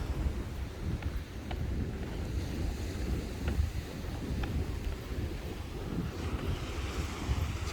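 Ocean waves roll in against the shore at Parque Santiago in Las Americas, Tenerife, a steady low surf rumble mixed with wind buffeting the microphone, continuous and fairly distant with no voices.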